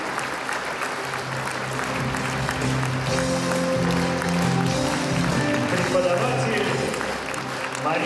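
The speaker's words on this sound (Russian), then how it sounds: "Давайте встретим вашими бурными аплодисментами Софию Балаеву" A concert audience at a children's music school event gives sustained, even applause for a young pianist about to play a Chopin waltz on a grand piano, with voices faintly audible under the clapping.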